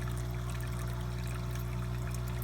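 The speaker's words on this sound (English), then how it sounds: "these pipes just bring the water right over to the middle" Water flows continuously from pipes into the 35-gallon sump of a cichlid aquarium, a steady close pouring and trickling wash over a constant low pump hum, with no talking.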